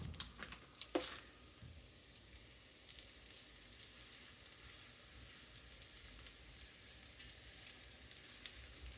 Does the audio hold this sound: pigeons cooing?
no